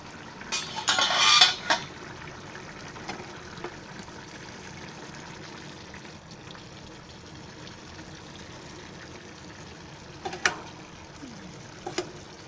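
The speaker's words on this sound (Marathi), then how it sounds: "बघूया आता थोडं हलवून बघूया आपण शिजले काय." Cooked field beans and potatoes get stirred in a pot, with a short burst of metal scraping and clinking near the start, then quiet simmering and a couple of brief clinks later on.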